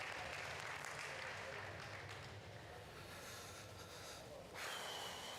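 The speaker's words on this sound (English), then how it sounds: "Let's give all the seniors in this particular heat a big round of applause for doing an awesome job." Audience applause at a county fair and rodeo heifer showmanship event, honoring senior exhibitors; a steady, dense wash of clapping from a crowd in a large arena, continuing throughout with some talk mixed in.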